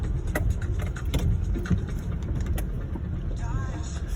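A car driving on a long road trip from Imo to Abuja, with a steady engine and road rumble throughout, moderately loud inside the cabin, as someone talks over it.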